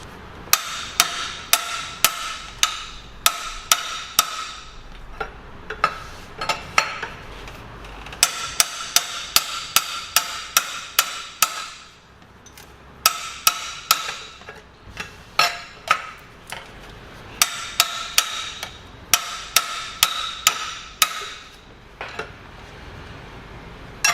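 Hammer whacks tightening the fan clutch on a Chevy Tahoe during a water pump replacement, loud close metallic strikes in quick bursts of several blows separated by short pauses, repeated many times with no talking.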